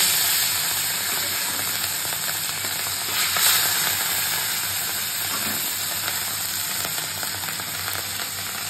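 Fish frying in hot oil in a home kitchen, a steady loud crackling sizzle that continues throughout, heard close up with occasional faint clinks.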